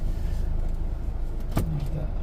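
An auto-rickshaw engine idles steadily, then a sharp clunk sounds as it shifts into gear, followed by a brief low whine.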